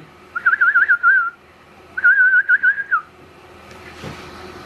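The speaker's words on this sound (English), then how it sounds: "I love a good whistle." A person whistles two short, warbling melodic phrases, close and clear, separated by a pause, followed by quiet room sound and a soft rustle.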